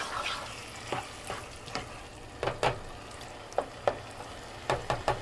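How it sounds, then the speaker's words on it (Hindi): Mashed turnip bharta frying over high heat, a quiet continuous sizzle with repeated spatula scrapes and taps in an uneven rhythm, close by, no talking. "2 से 3 मिनट तक हम इसे तेज़ आंच पे भूनेंगे।"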